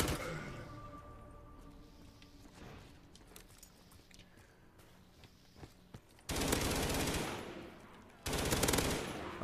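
Automatic AK assault rifle fire in a zombies video game, sustained loud bursts breaking out near the end in two long stretches after quieter game ambience.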